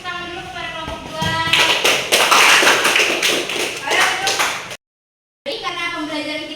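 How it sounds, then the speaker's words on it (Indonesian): A classroom of students claps in a burst of applause for a student group, then it breaks off briefly before a voice speaks over lingering clapping. "Kita berikan tepuk tangan dulu kepada kelompok 2"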